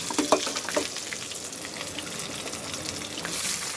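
Garlic frying in a pan, a close, steady sizzle with a few early clicks and stir scrapes, swelling slightly louder toward the end.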